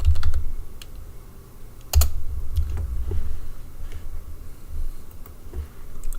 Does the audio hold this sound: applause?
no